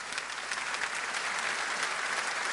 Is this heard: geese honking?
no